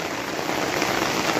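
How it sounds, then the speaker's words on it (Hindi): Heavy rain pours down in Mumbai, a loud, dense, unbroken hiss of drops striking surfaces close by, with no voices. "इतनी बारिश गिर रही है"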